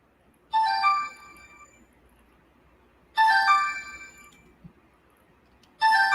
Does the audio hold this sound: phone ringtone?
yes